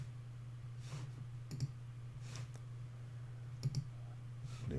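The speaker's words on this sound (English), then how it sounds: "We just go into our pointer and click Save." Several sharp computer mouse clicks, single and in quick pairs, spread irregularly over a low steady hum, close and fairly quiet with no voices.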